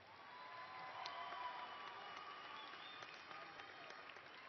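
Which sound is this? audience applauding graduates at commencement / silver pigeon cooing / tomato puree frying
audience applauding graduates at commencement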